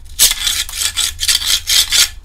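Up close, a tool scrapes surface rust off the steel body of a 1964 Mk1 Mini in four or five quick rasping strokes, loud and rhythmic, with no one talking.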